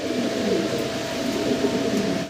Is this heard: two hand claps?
no